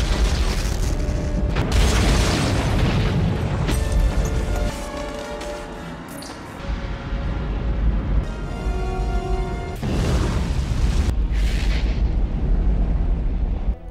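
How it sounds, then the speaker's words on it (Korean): The Horizon spaceship explodes in a sci-fi horror film, a sequence of heavy booms and rumbling blasts with crackling bursts, loud and continuous with surging swells and sharp new detonations. "호라이즌호가 폭발하고 살아남은 이들."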